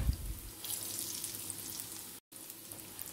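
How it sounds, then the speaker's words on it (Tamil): Chicken bonda frying in hot oil, a steady close bubbling sizzle that runs throughout with a short silent gap near the end. "ஆயில் ஹீட் ஆன பிறகு இது மாதிரி நம்ம ஒரு போண்டாவை வந்து ஃப்ரை பண்ணிக்கலாம்"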